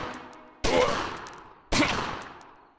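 Two sharp gunshots ring out about a second apart in the gangster video game Omerta: City of Gangsters, each a loud crack followed by a long fading echo.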